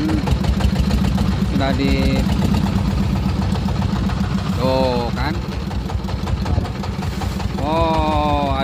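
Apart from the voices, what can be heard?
boat engine running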